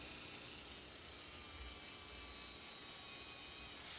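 Steel dagger blade made from an old file being ground to its bevel lines, a steady abrasive rasping hiss of metal on a grinding surface that runs unbroken and fairly close throughout.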